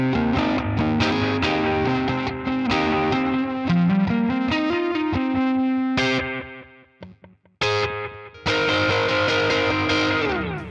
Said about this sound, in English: I hit the switch and it turns on an EQ and a boost to give me a little bit of a boost and a little bit of a mid push